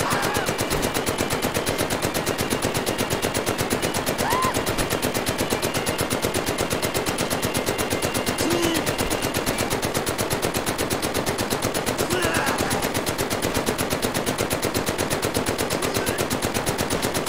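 Sustained machine gun fire in the VR shooter game Medal of Honor: Above & Beyond rattles nonstop for the whole stretch, a loud, dense, rapid-fire stream with faint background game sounds beneath it.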